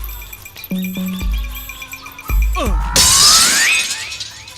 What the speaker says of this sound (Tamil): சவுண்ட் கேட்டியா கண்ணாடி எவனா உடைச்சா